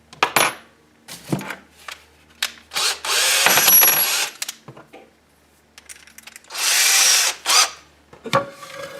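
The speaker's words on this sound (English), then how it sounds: "We're going to drill a hole through it." A power drill boring a hole for a molly anchor while hanging a curtain rod, with two sustained whirring bursts amid clicks and handling knocks, close and loud.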